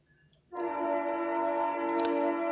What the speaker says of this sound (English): Oh, there's the train. Toot.